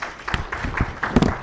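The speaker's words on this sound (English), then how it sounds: "Can we clap for her one more time?" Conference audience applauding a speaker, a short scatter of claps at moderate distance, fairly sparse and soft rather than a full ovation.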